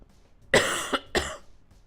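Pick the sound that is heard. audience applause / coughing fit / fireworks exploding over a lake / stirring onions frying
coughing fit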